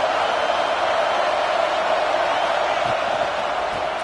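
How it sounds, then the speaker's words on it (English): A football stadium crowd for Tennessee against Texas roars at fever pitch before a third-down play in the red zone, a steady, dense wall of cheering that holds loud and unbroken throughout. "this crowd is at fever pitch"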